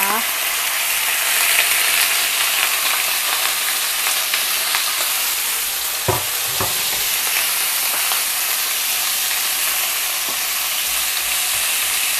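Loud continuous sizzling and crackling of chilies and garlic frying in a hot wok, with occasional scrapes and clinks of a utensil stirring.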